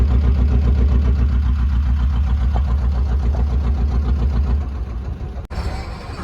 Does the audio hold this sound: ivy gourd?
no